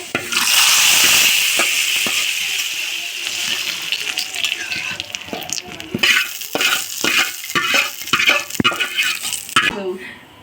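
Spiced tempering of broken dried chilies and cumin sizzling loudly as it is poured into mixed dal, a bright hissing burst that settles into uneven crackling and stirring clatter, ending abruptly.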